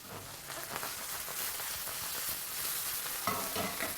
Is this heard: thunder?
no